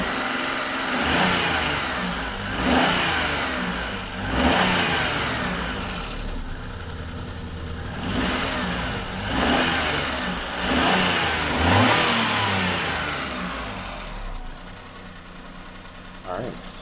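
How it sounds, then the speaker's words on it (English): A six-year-old Hyundai Eon car engine fitted with racing HT wires revs up repeatedly, each throttle blip rising and falling in pitch above a steady idle, fairly loud and close throughout. "let's rev it up a bit."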